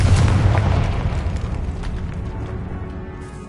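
A Confringo spell explosion in the Hogwarts Legacy video game, set in a decayed catacomb: one loud booming burst that rolls off into a long fading rumble, with no speech.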